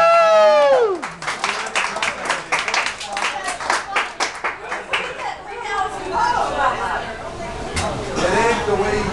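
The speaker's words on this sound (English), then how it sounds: "Please clap." Crowd applause and clapping at a poetry night, a burst of many hands clapping fairly close, mixed with chatter and cheering voices, easing off as talk picks up near the end.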